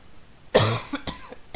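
A single sharp cough up close, followed by a couple of smaller throat sounds, in an otherwise quiet room.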